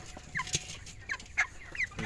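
Chickens at 32 days old clucking while being weighed on a farm, several short clucks and squawks close by in quick bursts over low background noise.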